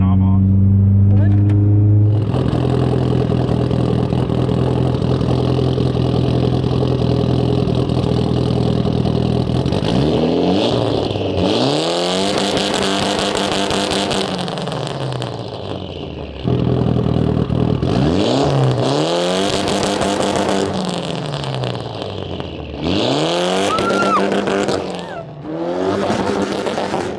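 A Mitsubishi Evo 10's engine runs loudly and close, first in a steady hard drone and then rising and falling through repeated revs, with people talking over it.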